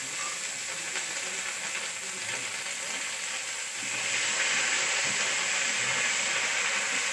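Spices, green chili and ginger paste sizzle in hot oil in a pan, a dense continuous hiss that gets louder partway through and stays steady and close.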